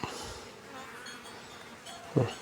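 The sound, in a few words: wild bees buzzing around a cleaned hive box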